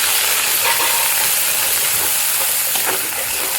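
Ground masala for paneer bhaji sautéing in a pan, with a loud, continuous close-up sizzle and hiss and faint stirring scrapes throughout.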